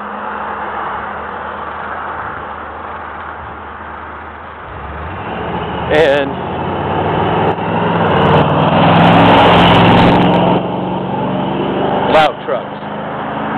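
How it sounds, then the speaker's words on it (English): Loud trucks rumble past outside, a broad engine roar swelling and fading over several seconds, with someone speaking over the noise and brief sharp knocks. "loud trucks. Don't you just hate them?"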